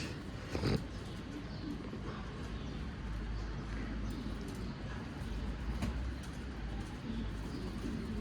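Young pigeons in a garden coop give faint, soft coos and rustles, with a few brief sharper knocks against quiet background noise.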